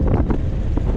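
Strong gusting wind buffets the microphone on a seafront fishing spot in Fleetwood, UK, a loud continuous low roar with surging gusts and no speech.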